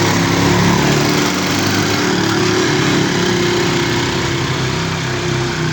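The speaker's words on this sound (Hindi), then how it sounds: "और ये वो मोटरसाइकिलों का शोर" Motorcycles on a busy main road at a crossroads, their engines making a constant, loud, close drone with no pauses and no speech.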